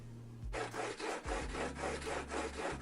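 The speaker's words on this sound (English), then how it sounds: "I started off with the 400 grit, 600 grit, and then the 1000 grit to sharpen up the primary bevel" Chisel cutting edge rubbed back and forth on sharpening stones through 400, 600 and 1000 grit, a steady run of close, rhythmic gritty strokes with no talking.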